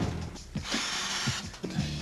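Power drill fixing body panels on a Blackpool Coronation tram, whirring loudly and steadily with brief knocks and ratcheting bursts, close by.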